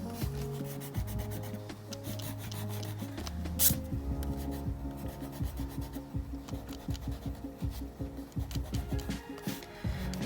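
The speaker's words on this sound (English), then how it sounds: "So now I'm going to rub out my guidelines." Eraser rubbing out light pencil guidelines on drawing paper, with close, soft, rhythmic back-and-forth scrubbing strokes that continue steadily with no talk.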